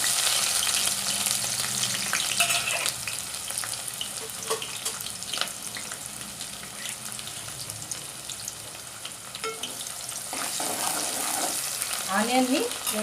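Onion sizzles steadily in a hot pan, a continuous crackling hiss with occasional stirring scrapes and faint clinks, moderately quiet and close.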